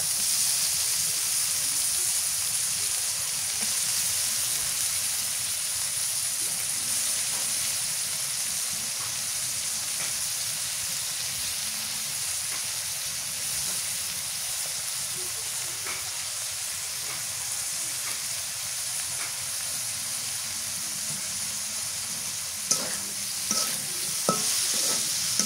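Small prawns fry in a spice paste in a pan, giving a dense, steady sizzle and hiss that runs unbroken for the whole stretch, with a few faint clinks near the end and no talking.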